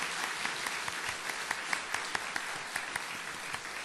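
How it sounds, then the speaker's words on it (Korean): Church congregation applauding together during a Korean worship service, a steady wash of many hands clapping throughout with occasional sharper claps standing out. "우리 하나님께 영광의 박수를 돌려드립시다."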